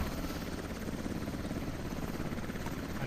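A helicopter in a video game, with a dense, continuous rotor roar that stays loud and unbroken from start to finish.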